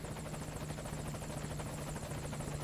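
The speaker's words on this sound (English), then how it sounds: "So, we're gonna get our helicopter out." Helicopter arriving in the video game Metal Gear Solid Ground Zeroes, its rotor beating in a fast steady chop over a droning engine hum, fairly faint and continuous with no speech.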